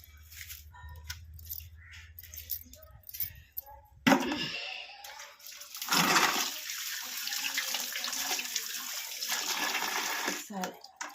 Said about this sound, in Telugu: కొన్ని నీళ్ళు పోసుకొచ్చుకుందాం